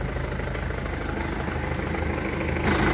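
A Daihatsu Taft 2800cc DL41 diesel engine idling at close range, a steady low rumble with an even rhythmic throb that stays constant throughout and grows slightly louder at the very end.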